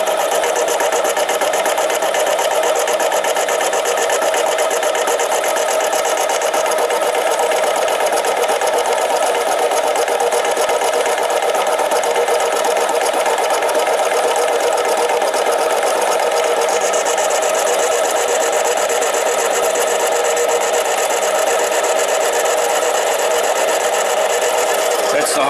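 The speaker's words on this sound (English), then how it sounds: "That's the Harbor Freight 7x10 mini lathe. Cutting 304 stainless." A Harbor Freight 7x10 mini lathe cuts 304 stainless steel on a large stainless bowl, giving a loud, steady mechanical whine and hiss that runs unbroken and close the whole time.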